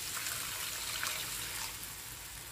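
Water poured into a pan of potato and capsicum masala on the stove, a steady close trickle and splash lasting a couple of seconds with no talk.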